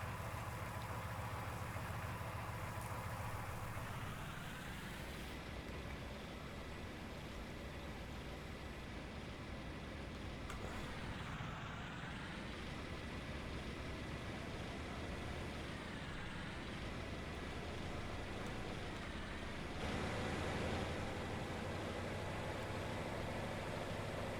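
Simulated tractor engine from Farming Simulator 19, a steady low idle that climbs in pitch as it speeds up around the five-second mark, then holds a continuous drone with shifting revs, alone and fairly loud throughout.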